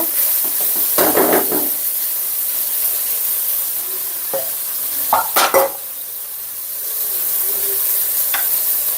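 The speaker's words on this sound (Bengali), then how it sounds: "চালটা ভাজতে ভাজতে এর সাথে আমি কিছু মশলা অ্যাড করব।" Rice frying with spices in a pan for a home-style chicken roast, a steady close sizzle broken by several louder stirring scrapes and clatters.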